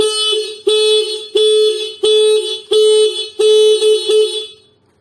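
A V12 alarm on a Honda Astrea Grand motorcycle, set off by a bump, blares a loud repeating electronic siren: six or seven sustained tonal bursts in a row that cut off and fade at the end.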